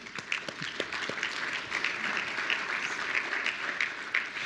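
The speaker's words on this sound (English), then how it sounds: "And Connie, for that, I would really like a clap." Audience at an economic forecast event giving steady, even applause with many hands clapping together at a moderate distance.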